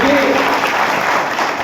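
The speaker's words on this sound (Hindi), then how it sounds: "एक बार आयोजन करता टीम के लिए जोरदार तालियां बजा दीजिए साथियों" A crowd at a tribal community gathering bursts into brief, dense, loud applause for the organizing team, a continuous wash of clapping heard up close.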